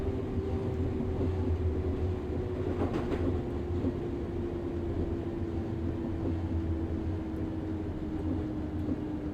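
A Class 315 electric multiple unit runs in the OpenRails train simulator, giving a steady, loud rumbling drive with a faint whine and occasional clicks throughout, no one talking.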